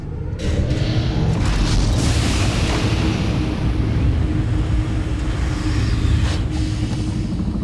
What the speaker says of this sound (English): That's the explosion we heard.